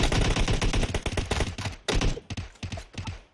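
Rapid automatic gunfire from the mobile battle-royale game PUBG Mobile, loud and close, in dense rattling bursts that continue with brief gaps and a final short volley, with no talking.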